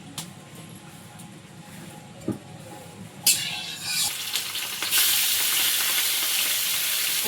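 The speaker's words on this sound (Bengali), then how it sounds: "মাছ ভাজা হচ্ছে" Fish spiced with salt and turmeric goes into hot oil in an iron wok over an outdoor clay stove, with a few light clinks and taps, then a loud, steady frying hiss that builds and stays up close.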